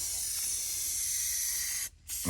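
Spray foam being applied to patch the underside of a mobile home, a steady close hissing spray running continuously before a brief pause and a restart, with no talking.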